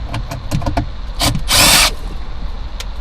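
A power drill removes factory bolts inside a 2021 Chevy Tahoe, with short loud bursts and a sustained high whine for about half a second amid clanking and handling noise.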